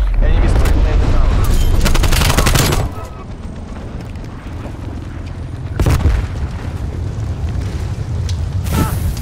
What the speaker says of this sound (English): C-trap, napalm strike inbound.